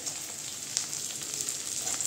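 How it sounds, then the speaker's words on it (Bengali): Tomato and green chilli hit lightly fried onions in a pan for garlic chicken, making a brief, steady close-up sizzle with faint crackles. "এর মধ্যে দিয়ে দিচ্ছি আমি টমেটো, দিয়ে দিচ্ছি যে কাঁচা লঙ্কাটা"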